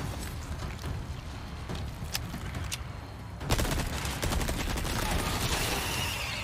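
A TMP submachine gun fires rapid bursts in the video game Resident Evil 4 Remake, with a few scattered shots early on, then sustained loud automatic fire over a busy game background.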